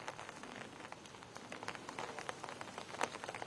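Light rainfall over Cuttack-Bhubaneswar under cloudy skies, a steady soft patter of drops with scattered sharper taps, continuous and moderately quiet with no voices.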